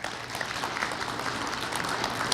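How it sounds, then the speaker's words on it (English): Steady, moderately loud applause from an audience at a prison education awards ceremony honoring teachers, a continuous wash of many hands clapping at an even level throughout. "Let's give them another round of applause."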